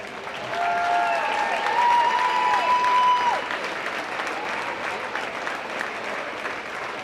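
Sustained applause from spectators as a girls' regional championship team trophy is presented, steady and dense, with faint voices and whistle-like tones carrying over the clapping.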